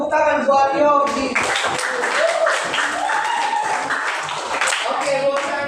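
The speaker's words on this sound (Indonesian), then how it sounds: "cukup tepuk tangan buat Yogi." A group in a classroom claps briefly, the applause mixed with voices and chatter from a room of people.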